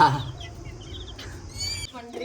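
A colourful pet chicken clucks close by in short, soft calls, with a few higher chirps at the end.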